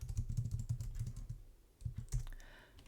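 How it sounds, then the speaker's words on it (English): A password is typed on a computer keyboard as a quiet run of quick keystrokes, with a short pause midway before a few more taps. "So you just type in password here,"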